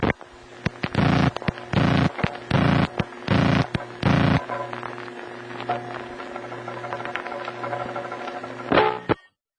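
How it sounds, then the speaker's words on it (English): A series of regular telephone dialing tone bursts on a vintage network, followed by a steady line hum with scattered faint metallic clicks of crossbar switch relays. "I'm referring to the metallic sounds that you will hear between his digits and afterward."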